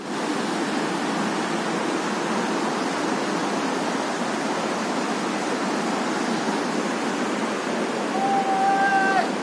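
A river rushes in a steady, loud broadband roar beneath a wooden footbridge on a mountain trek in Dolpa, continuous throughout, with a few faint high tones near the end.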